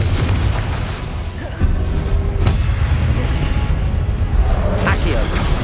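Confringo fire spell blasts in the video game Hogwarts Legacy, heavy booming explosions with bursts and crackle over a loud battle din.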